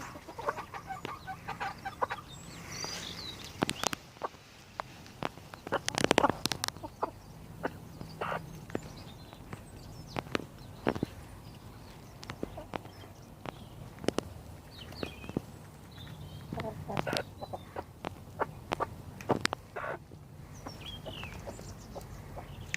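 A hen near its coop in a no-dig organic allotment garden in February, giving scattered soft clucks and quick scratching footsteps at close range, with short sharp taps and pauses between them.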